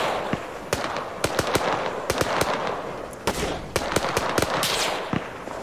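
Gunfire and explosions from a military battle in the game Arma 3: a dense series of sharp bursts and cracks, some close and loud, others more distant, running continuously with short gaps between the bursts.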